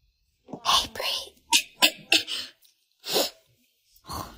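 A quiet, close sneeze followed by a few more muffled sneezes and breathy bursts, spaced irregularly with short silences between them, in an indoor setting.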